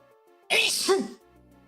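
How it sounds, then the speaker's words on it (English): A single loud, close sneeze bursts out sharply and fades within about half a second, with faint background sound before and after. "there's your sneeze tax for stream."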